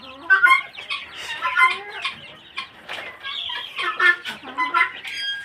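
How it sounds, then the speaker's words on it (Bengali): Young Chinese chickens cluck and chirp on a small home farm, a busy, close chorus of overlapping high calls with occasional wing flutters and no talking. "চীনা মুরগির ছানাগুলো দেখেছিলেন"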